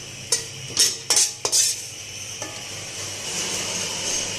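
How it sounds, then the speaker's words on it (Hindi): Roasted coconut scooped from a pan onto a plate, several close metallic scrapes and clinks of a spoon in quick succession, then a soft sizzle carrying on alone. "नारियल को अब मैं निकालूंगी प्लेट के अंदर।"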